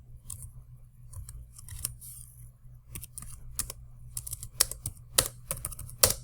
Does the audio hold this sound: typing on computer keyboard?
yes